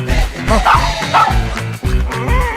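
A dog yipping and barking in short, excited bursts, several loud close barks and whiny yelps in quick succession, with possible faint human sound underneath.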